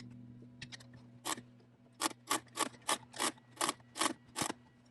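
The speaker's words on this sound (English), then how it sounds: "So I'll pull the cord out and plug it in." The retractable cord of a Giraffe Tools 12V car vacuum being pulled out inside a vehicle: a run of about nine evenly spaced ratcheting zips over a low steady hum, close and clear.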